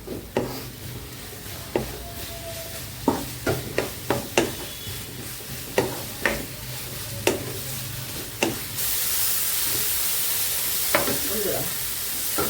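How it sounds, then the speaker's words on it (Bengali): Mushroom pieces fry with spices in a pan for a vegetarian soybean, paneer and mushroom curry: sharp spatula knocks and scrapes repeat over a low sizzle, then a loud, steady hiss takes over near the end. "মাশরুমের টুকরোগুলো দিয়ে একটু ভাজি করে নেব। মশলার সাথে একটু ভাজি করে নেব।"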